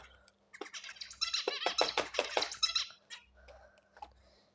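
A pet bird squawks in a burst of harsh, rapid calls up close indoors, with a few softer squeaks trailing off afterward.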